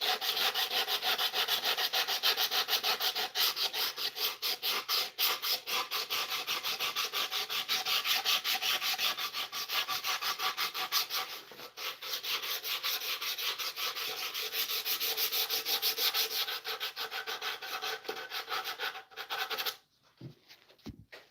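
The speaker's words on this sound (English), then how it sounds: "I'll grab whatever high grit sandpaper I have for between finish" Wood being hand-sanded with high-grit sandpaper while building a Telecaster-style guitar: close, loud, continuous rhythmic rubbing and scratching strokes run for about twenty seconds before stopping abruptly, followed by a few light knocks.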